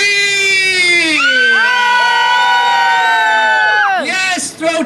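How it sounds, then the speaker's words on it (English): Crowd screaming and whooping on cue at a live fire-eating and sword-swallowing show, a loud sustained wall of many high voices, mostly children, holding for about four seconds before breaking off into scattered shouts. "Let's practice right now. Somebody scream!"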